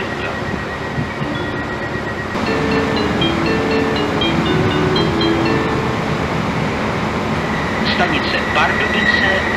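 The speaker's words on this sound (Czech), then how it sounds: "Vlak RJ číslo 1012 společnosti RegioJet ze směru Košice přijel k nástupišti číslo 3, kolej 2." RegioJet train at the platform of Pardubice main station: a steady, loud rolling rumble of the train with faint squealing tones, heard under a station public-address announcement.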